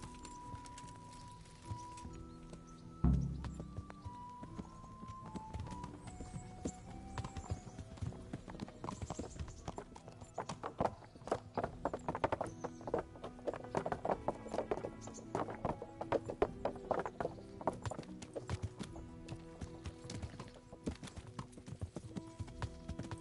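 Horse hooves clip-clop steadily in the medieval video game Kingdom Come: Deliverance, a close rhythmic trot with a whinny near the start and game music playing underneath.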